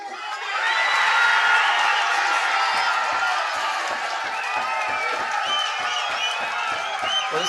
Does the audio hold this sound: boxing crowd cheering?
yes